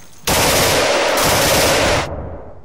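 A loud, close stream of rapid automatic gunfire in the shooter game Insurgency runs continuously for nearly two seconds, then cuts off abruptly.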